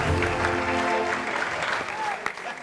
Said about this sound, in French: applaudissons pour le frère.